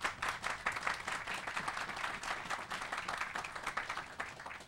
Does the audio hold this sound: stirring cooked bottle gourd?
no